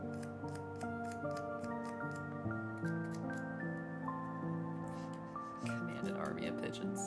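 Quick snipping and scraping strokes repeat in short bursts over background music, with a voice talking now and then.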